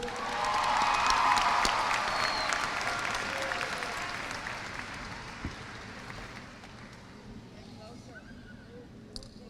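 Applause fills a high school graduation ceremony hall as the class of 2017's top scholars are honored, strongest at first and then slowly thinning over several seconds, with talk underneath.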